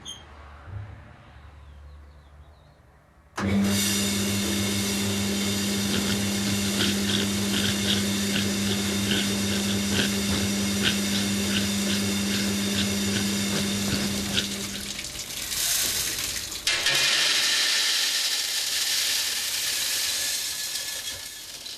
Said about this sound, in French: Le cylindre est mis en rotation dans une machine.